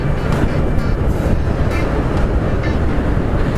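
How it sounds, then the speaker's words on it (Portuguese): São Paulo metro train running along its line, a loud steady rumble of wheels and motors close by with faint rhythmic clatter over the top, continuous throughout. "Esse metrô, ele cruza com a linha azul, linha verde e também cruza com o trem ali da linha vermelha."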